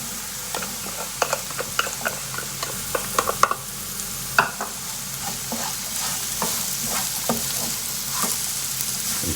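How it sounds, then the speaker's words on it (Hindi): Finely chopped onions fry with spices in a pan, a continuous sizzle punctuated by repeated sharp stirring clicks and scrapes of a utensil, close and moderately loud with no talking. "इसे अब अच्छी तरह से भून लो, मसाला एक हो जाए, एक जान बन जाए।"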